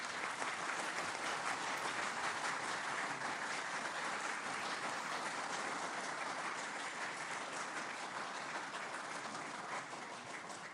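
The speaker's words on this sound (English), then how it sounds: "y'all quit clapping" A crowd applauding in sustained, even clapping that stays strong throughout and eases slightly toward the end, without any voices.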